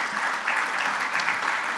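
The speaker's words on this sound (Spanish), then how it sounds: "Así que un fuerte aplauso por favor." Brief burst of hearty audience applause at a national private-business congress session on security, a dense continuous crackle of many hands clapping at steady volume.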